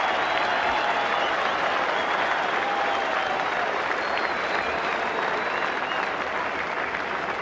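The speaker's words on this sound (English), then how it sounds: "patriotic and emotional applause for the Fijian side coming onto the ground here" A stadium crowd at the 1987 Rugby World Cup match between Argentina and Fiji applauds the Fijian team running onto the ground, a steady, dense wash of clapping that stays loud and unbroken from start to finish.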